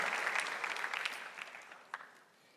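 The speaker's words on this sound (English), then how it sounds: "give them a clap" A crowd gives a round of clapping at a gathering, starting moderately loud and thinning out to scattered claps, with a single sharper clap near the end as it fades.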